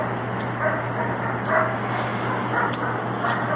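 Puppies whimper and yip in short, high, repeated cries over a steady low hum, fairly close, with no talking.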